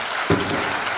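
An audience at a lecture on social change breaks into a brief burst of clapping, a dense one-second patter of hands.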